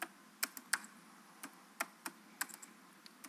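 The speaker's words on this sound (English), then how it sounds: "My typing is bad today." Typing on a computer keyboard while coding C++, a scatter of sharp, irregular key clicks at close range, quick bursts separated by short pauses, with no voices.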